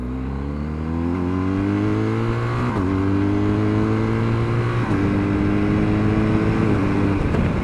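A 2021 BMW R1250GS Rally SE motorcycle pulls away in first gear and keeps accelerating, its engine note rising through the revs in loud, close sweeps with brief dips between pulls, and no one speaks.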